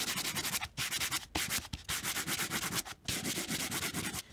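Steady scraping strokes of sanding across painted MDF board, repeated back-and-forth rubs with brief pauses between passes, close and fairly loud, no voices.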